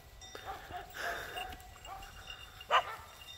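Sheepdogs guarding a flock bark at a bear in the forest: faint, distant barks that rise to one sharper, louder bark near the end over a quiet outdoor background.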